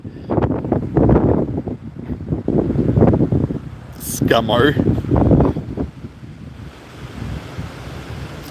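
Gusty outdoor wind buffets the microphone, making a loud low rumble that swells and fades under someone speaking close by.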